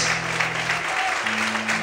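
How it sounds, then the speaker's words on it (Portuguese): Congregation in a church clapping for God at a night worship service, dense continuous applause from many people blended with held keyboard notes, steady and moderately loud with no pauses. "Você pode aplaudir a Deus"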